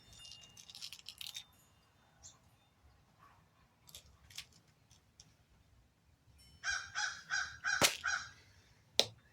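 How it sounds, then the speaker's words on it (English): Crows cawing outdoors, a scattered series of harsh calls that are faint at first and then louder and more rapid toward the end, with a few sharp clicks mixed in. "The crows are back."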